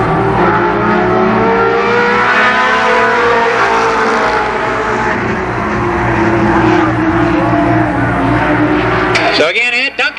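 Big rig trucks racing at Columbus Motor Speedway, a loud, continuous roar of engines with shifting revving tones, ending in an abrupt clattering burst.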